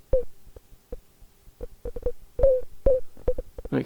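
A Kastle Drum synthesizer plays a tinkly, random beat pattern: sparse, sharp clicks and short pitched blips spaced unevenly, some with brief ringing tones, fairly loud against near silence.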